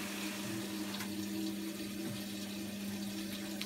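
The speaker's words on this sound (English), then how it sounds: "Got water coming in." Water runs steadily into a Bosch WOK2001 top-loading washing machine with a circuit-board fault, a constant close hiss and rush with a low hum underneath, and no talking.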